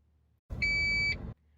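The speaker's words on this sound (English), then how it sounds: "This tone lets you know that your seat adjustments are saved to that corresponding numbered spot." A single steady electronic beep of about half a second, clear and close, confirming a Toyota memory seat setting, with a quiet hum before and after.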